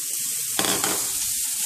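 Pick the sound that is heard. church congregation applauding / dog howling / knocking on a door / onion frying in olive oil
onion frying in olive oil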